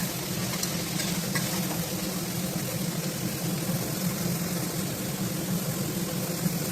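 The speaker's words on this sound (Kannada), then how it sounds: "ಸೋಯಾಬೀನು ಸ್ವಲ್ಪ ಫ್ರೈ ಆಗಬೇಕು" Soya chunks fry in a pan with salt, giving a steady, even sizzle that runs continuously at moderate level with no voices.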